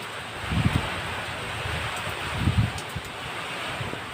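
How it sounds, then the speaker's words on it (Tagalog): Strong wind with rain roars and buffets the microphone in a constant loud rush, with a couple of low gusty thumps. "Kasi ang lakas ng hangin."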